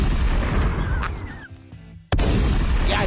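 A loud firecracker blast crackles and fades into near-silence, then a second sudden burst cuts in sharply and roars on at full volume, with no voices.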